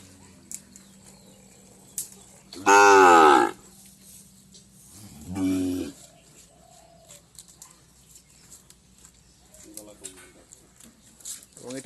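A cow moos loudly twice, a long low call followed by a shorter one, with farmyard background noise and faint voices around it.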